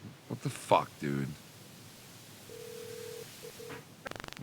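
An unanswered phone call rings out as a steady electronic ringback tone in a few pulses, following brief talk from a person at the start.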